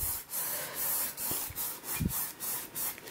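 Acrylic paint being scraped and scratched onto canvas to form a field of yellows and greens, a steady series of soft, rhythmic rubbing strokes close to the microphone, with no voices.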